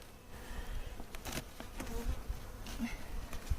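Honeybees buzzing around a nuc box during installation, a faint, continuous hum with scattered passing buzzes from nearby insects and no talking.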